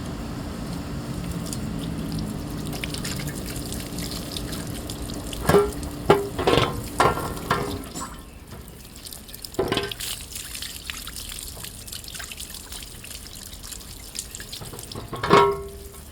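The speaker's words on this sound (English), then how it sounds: "Rinse this off." Running water rinsing off a part during a coolant and transmission fluid service on a Lexus ES300: a faint trickle and splash from a tap, with louder splashing bursts and clatters toward the middle and end.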